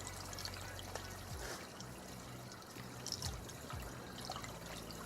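Coolant is poured into the cooling system of a GMC 350 engine, a quiet steady trickle and gurgle of liquid running into the fill with faint low knocks, no voices.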